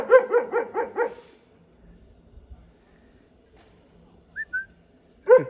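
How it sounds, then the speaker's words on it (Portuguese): A neighbor's black-saddled German Shepherd barks in a quick run of five loud, close barks, then falls quiet apart from a short whine-like chirp before one last bark at the end. "Esse é o cachorrinho do vizinho"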